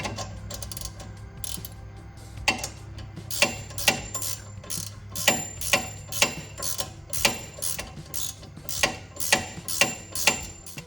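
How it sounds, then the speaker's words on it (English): Quick bursts of ratchet wrench clicks on the rear suspension of a 2020 Honda Civic Sport FK7 come in a steady series of short ratcheting strokes, close and fairly quiet, with no talking. "Swapped out, get my ratchet wrench."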